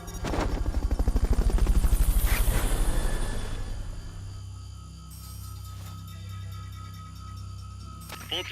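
Helicopter in a video game during a Fulton recovery at a U.S. missile base, a loud steady rotor drone with rapid chopping beats that swells for the first few seconds, then settles into a quieter, even hum.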